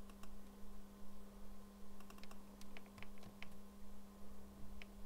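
Quiet typing on a computer keyboard while deleting and entering Arabic words, with scattered light key clicks in short bursts over a steady low hum.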